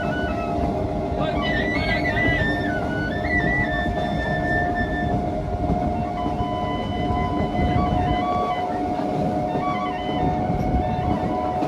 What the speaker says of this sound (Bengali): আমাদের ট্রেন চলে এসেছে লক্ষ্মীকান্তপুর স্টেশনে